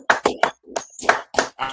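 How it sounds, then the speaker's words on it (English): A few sharp, close hand claps in an irregular rhythm, separated by brief gaps, with no talk over them. "clap it up."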